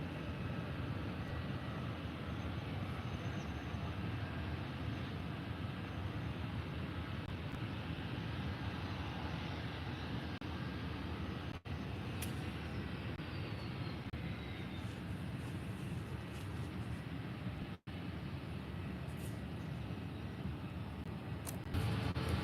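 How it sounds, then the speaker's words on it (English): A TUI Boeing 737 MAX 8 taxis toward runway 28 at Faro airport, a steady low jet engine rumble and hiss droning on without pause, moderately distant, with no voices. "So Tui 737 MAX 8 to Birmingham has just pushed back and is now going to the runway"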